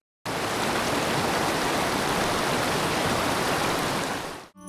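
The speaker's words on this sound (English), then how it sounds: "Waterfalls produce the sound of rushing water as it cascades down." A waterfall roars with rushing water cascading down, a steady, dense, unbroken hiss that holds at the same loud level before cutting off abruptly.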